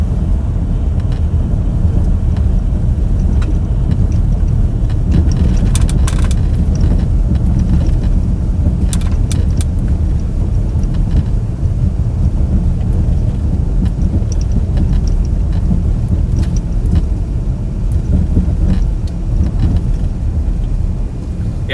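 A car drives through powdery, wind-blown snow during a big winter storm around Grand Rapids, Michigan, giving a steady, loud low rumble with a gusty wash of wind and no talking.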